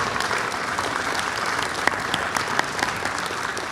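An audience gives sustained applause for four award winners at the World Culture Festival, a dense, even roar of clapping from a large crowd.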